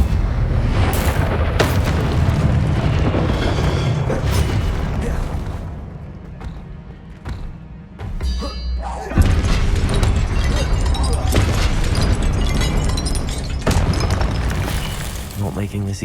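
Incendio fire-spell blasts in the Hogwarts Legacy video game, loud booming bursts and crashes in a busy magical fight, easing briefly before a strong renewed blast, with voices mixed into the din.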